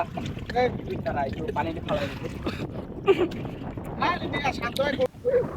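A wooden country boat being rowed across a beel wetland at Baliakandi, Rajbari, with gentle water splashes and wind buffeting the microphone under near, continuous chatter from people on board.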